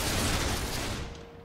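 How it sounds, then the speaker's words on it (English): Musket volley from an infantry company in the game Between Empires, a dense roaring burst of overlapping gunfire that fills the moment and then decays into a fading rumble. "First company will fire on my command."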